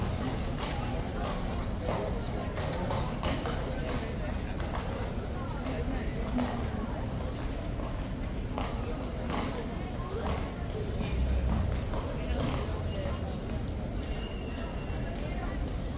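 Constant hoofbeats clatter under a dense crowd murmur, a continuous clip-clop of several horses moving together at a distance at Horse Guards.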